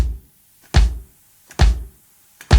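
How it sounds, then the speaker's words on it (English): Kick drum strikes land in steady quarter-note rhythm during a beginner drum lesson: three deep, close thuds appear, each with a short decay, separated by silence, and a fourth is cut off at the very end. "And then 4 kick drums."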